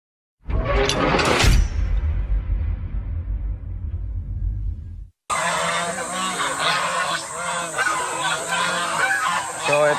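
Loud honking from a flock of geese at a goose market in the Philippines, a dense chorus of overlapping calls, preceded by a sharp burst that rings out and fades.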